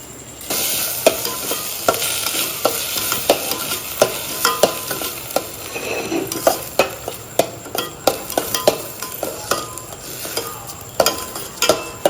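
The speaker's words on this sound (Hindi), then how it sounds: "घी गर्म हो गया है, उसमें डाल देते हैं कुटी हुई इलायची और फिर चावल डाल देते हैं" Rice and crushed cardamom frying in hot ghee in a pot, with a steady sizzle under rhythmic scraping strokes of a spoon against the metal, repeated and fairly close. No voices.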